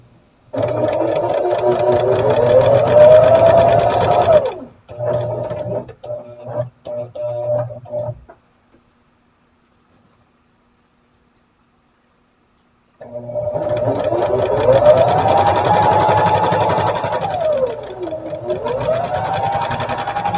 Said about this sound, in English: And I want to stitch with my seam.